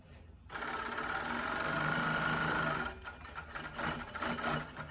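A Jack W4 cover stitch sewing machine runs fresh out of the box with a steady, rapid mechanical whir for a couple of seconds, then stops, leaving lighter clicks and handling noise.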